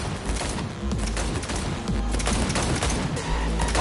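Sustained gunfire fills a Cyberpunk 2077 car chase shootout, with dense, loud bursts of automatic shots overlapping continuously under a roaring engine and chaotic background noise.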